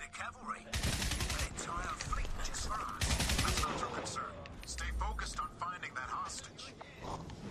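Heavy bursts of automatic gunfire and booming shots from the shooter game Crysis, loud and dense, with a low rumble midway and a voice talking over the action.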